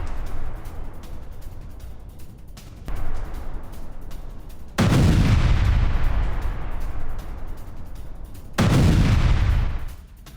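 Heavy explosions from a Ukrainian strike on a Russian Grad MLRS and its missile stock: a continuous roar of distant blasts with two sudden, loud, booming detonations that swell and rumble, no talking.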